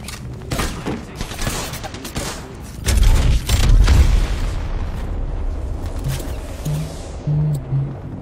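Heavy video-game gunfire and booming blasts, a dense fusillade with a louder burst of explosions in the middle, followed by fainter scattered shots and pops.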